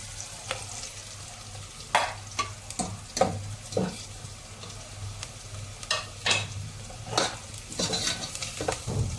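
Noodles with Maggi chicken stock and spices frying in a little oil, a continuous close sizzle with irregular sharp scrapes and clatters of a spoon stirring against the pan, no voices.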